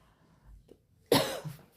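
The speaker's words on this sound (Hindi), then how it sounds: "मुझे बहुत खांसी हो गई है" A single sharp, harsh cough bursts out close by after a quiet moment, trailing off into a short rough exhale.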